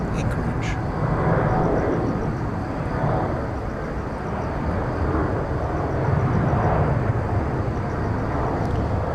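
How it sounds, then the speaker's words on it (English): A Cathay Air Cargo airplane departs Incheon for Anchorage as a broad, steady jet roar fills the air, with someone talking over it and a faint crow cawing at the start. "Cathay Air Cargo going to Anchorage"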